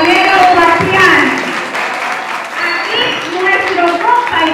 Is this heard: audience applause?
yes